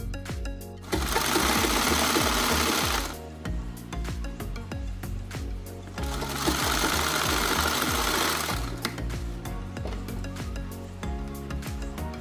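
A sewing machine stitches a child's dress made from a used T-shirt, running steadily with a loud, rhythmic mechanical clatter that surges into two faster, denser bursts of stitching.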